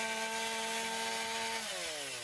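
A chainsaw cuts through a residential roof rafter while opening a ventilation hole, a loud continuous engine whine that holds steady and then drops in pitch as the chain bites into the wood.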